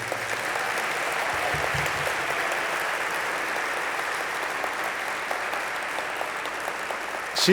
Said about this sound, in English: I want to give her a round of applause for all the work she did